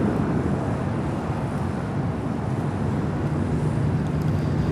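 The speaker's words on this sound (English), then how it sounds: "That is a United Dreamliner, 787-9 Dreamliner that came in from a faraway destination this morning and now being brought back over there" A United Boeing 787-9 Dreamliner airliner taxis at LAX, its steady broadband engine roar and rumble held constant throughout, moderately loud with no voices.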